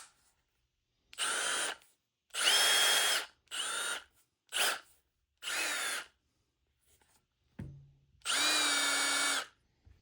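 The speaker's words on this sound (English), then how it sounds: "I have the world's first dual drive M18 impact" A Milwaukee M18 dual drive impact driver runs in a series of loud bursts, several short and a few longer, with high whining motor tones and brief silent pauses between triggers, and no voices.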